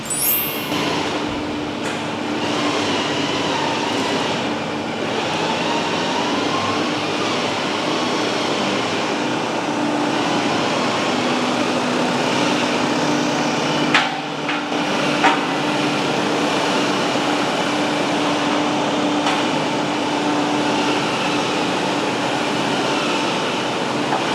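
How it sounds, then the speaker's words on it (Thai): A steady, loud mechanical whine and hum of an electric winch pulling an 8-ton road roller, continuous throughout with faint clanks partway through. "เสียงวินอย่างดีมาก"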